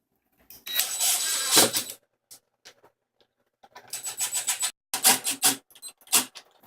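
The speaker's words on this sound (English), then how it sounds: "line them up over the holes and secure using the H7 screw" H7 screws being driven into the end panels of a Legend table during assembly: two stretches of rasping, ratcheting turning, each a second or more long, separated by a short pause with a few small knocks.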